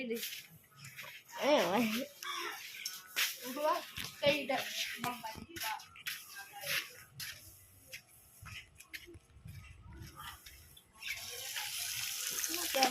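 Raw chicken pieces washed under a running tap, steady splashing water with intermittent handling and clatter in a sink, while people, including a child, talk over it and the flow rises near the end.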